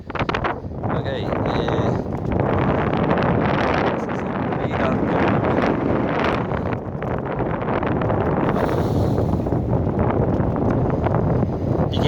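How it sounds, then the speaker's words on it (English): Strong wind buffets the microphone at an outdoor military aircraft museum in Comox, Canada, a loud constant rumbling roar with gusty surges, and a person talks beneath it. "It's really windy today."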